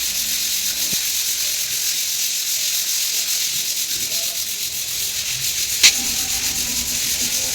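A hand lightly rubs a damaged interior wall surface to test whether it has dried. The result is a steady, close, scratchy hiss like sanding that continues throughout, with one brief tap partway through.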